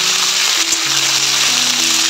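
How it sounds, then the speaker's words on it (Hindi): Pork frying in a pan with browned onions, a steady loud sizzle throughout with faint tonal hums in the background and no voices. "अब हम पोर्क को डालेंगे. और पोर्क को भी अच्छे से फ्राई करेंगे."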